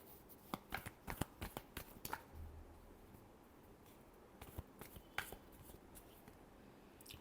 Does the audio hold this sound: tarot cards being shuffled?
yes